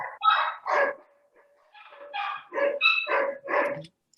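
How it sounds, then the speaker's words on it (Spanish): Several small pet dogs bark and yip in a rapid, uneven string of sharp barks, with a brief lull partway through, fairly close and without talk over them. "hoy empezaron mis perritos a ladrar"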